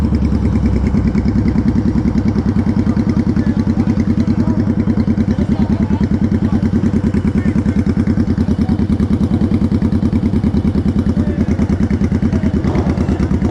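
A motorcycle engine idles on a street in the evening, a loud, steady, even throb that continues throughout, with faint background voices.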